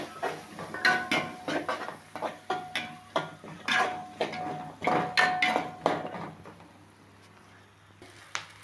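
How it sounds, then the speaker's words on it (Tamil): Small onions, curry leaves and green chillies sautéing in a pan for sambar, with a utensil clanking and scraping in a steady rhythm. The stirring then fades to quiet near the end. "இப்போ நம்ம சின்ன வெங்காயம், கருவேப்பிலை, பச்சை மிளகாய் இது எடுத்து அப்படி கொட்டிக்கலாம்."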